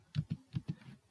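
Brief, quiet burst of typing on a computer keyboard, five soft keystrokes in quick uneven rhythm, close up with no talk.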